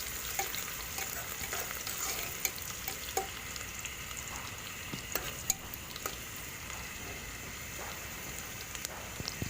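Onions fry in a pan for bread pulao, browning in hot oil with a steady close crackle and sizzle, sharpened by scattered louder pops and spits throughout.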